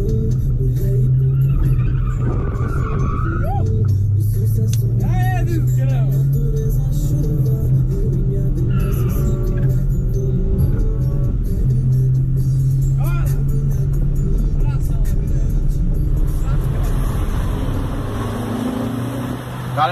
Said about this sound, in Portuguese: Saveiro faz drift ou não?